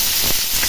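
Chopped onion sizzling in hot oil, cooked with bay leaf and panch phoron spices for a thin sarputi fish curry; a steady, close hiss fills the short moment without any talk.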